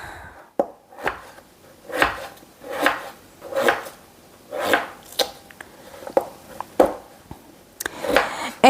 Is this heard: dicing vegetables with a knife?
yes